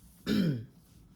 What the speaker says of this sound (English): I'm uncomfortable when I start having my coughing fits.